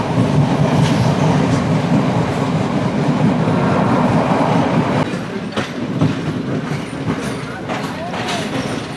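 A train rolls into a large railway yard with a loco shed near Gintota station, a loud steady rumble of wheels with clickety-clack and faint squeals that eases after a few seconds.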